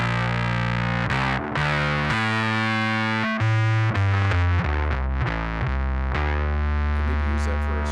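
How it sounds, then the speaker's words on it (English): A synth run through a fuzz effect for a subby dub techno sound, playing a sequence of distorted, buzzy sustained notes that shift pitch in steps; loud, thick and up front with no voices. "I do have a fuzz"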